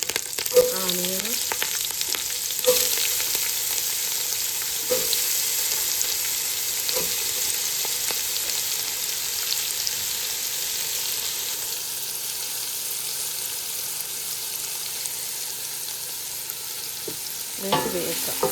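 Onions and green chillies fry in a pan with a constant bright sizzle while a spoon scrapes and stirs at intervals, a few sharper metallic knocks standing out near the start and end.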